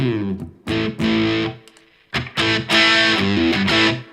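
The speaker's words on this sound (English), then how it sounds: "So let's put it on echo mode." Distorted electric guitar through an Echorec-style echo unit in echo mode, playing short choppy chords with gaps between them, loud and close.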